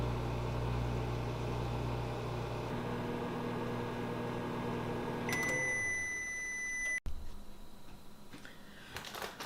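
A microwave oven cooking broccoli hums steadily, then shuts off and sounds a few clear electronic beeps, followed by a click and a quieter room tone.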